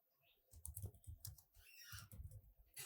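Fast, uneven bursts of keystrokes on a computer keyboard, close and fairly loud, with brief pauses between clusters of key presses and no voices.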